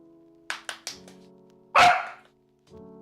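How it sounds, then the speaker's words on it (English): A puppy gives three quick yapping barks, then one louder, longer bark, close by in an indoor room, with no speech over it. "Oh my gosh, puppy."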